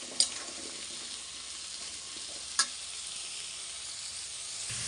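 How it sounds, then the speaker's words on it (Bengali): Food fries in hot oil with turmeric and salt, giving a soft steady sizzle with two brief clinks of a utensil against the pan; quiet, with no speech. "এখন ভালো করে এটা ভাজা ভাজা করে নেব তেলে"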